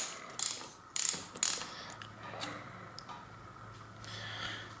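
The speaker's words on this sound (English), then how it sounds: "And so that's what I'm going to use, the 6-point socket. And then just unscrew these." Ratchet turning a 6-point socket to unscrew bolts on a RockShox Indy S bicycle fork: a few sharp clicking bursts early on, then fainter scattered ticks over a low background hum.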